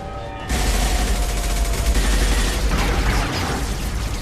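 Sustained gunfire from a Mass Effect 2 firefight on Illium, beginning abruptly after a brief quiet moment and continuing as a dense, loud barrage of rapid shots and booms with no pauses.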